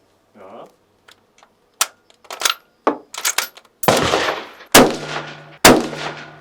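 Sharp gunshots at an indoor shooting range in Prague, several loud cracks spaced irregularly, each ringing off with a reverberant tail, with clicks and handling noises between them.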